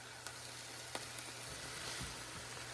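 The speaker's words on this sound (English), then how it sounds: "I'm gonna pull the rice mixture, throw it on top, and cook those shrimp real fast" Shrimp and riced cauliflower fry in a pan with a soft, constant sizzle, broken by a few faint clicks and light scraping, quiet and without talk.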